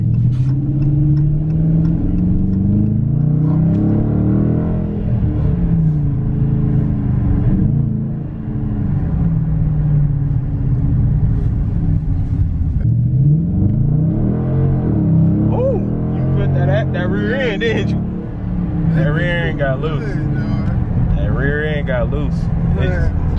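A brand-new 2019 Dodge R/T with a regular 5.7 Hemi V8 rumbles and revs close by. Deep, throaty engine surges rise and fall while people talk excitedly over it.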